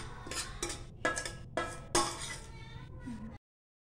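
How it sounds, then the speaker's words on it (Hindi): Semolina being stirred in ghee in a pan over a low flame, several metallic scrapes and clinks of a spoon against cookware in an irregular rhythm, close and fairly loud, then stopping abruptly. "सूजी लाल होने तक मैं थोड़ा घी में इसको स्टर करूंगी"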